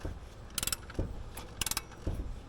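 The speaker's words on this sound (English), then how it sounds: "I'm actually checking to see if all the valves get up and go down how they're supposed to" A Yugo engine turned over slowly by hand with the valve cover off, its valves rising and falling in a few soft mechanical clicks and ratcheting bursts spaced roughly half a second apart, close and quiet.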